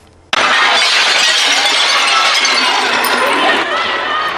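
Glass windows of luxury stores in Soho, Manhattan, shattering as protesters smash them during a night of unrest, a sudden loud crash followed by sustained crunching and tinkling debris.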